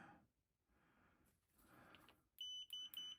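A multimeter set to continuity mode beeps in a few short, sharp, close tones near the end, after quiet handling sounds and faint breathing.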